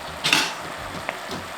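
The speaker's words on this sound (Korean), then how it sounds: "고추도 같이 넣어서 졸여줄게요." A few light clinks of a utensil against a pan as garlic stems and chili peppers braise, with a soft simmering hiss underneath and no talking.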